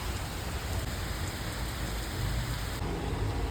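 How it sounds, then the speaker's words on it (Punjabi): Rain falls steadily in a constant, soft hiss of drops on surfaces, heard alone and fairly faint with no voices. "ਮੌਸਮ ਜਿਹੜਾ ਸੋਹਣਾ ਬਹੁਤ ਲੱਗਦਾ ਠੀਕ ਆ ਮੀਂਹ ਪੈਂਦਾ"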